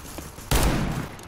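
R8 revolver fire in the video game CS:GO, with a loud burst of close gunshot energy in the second half following quieter game noise.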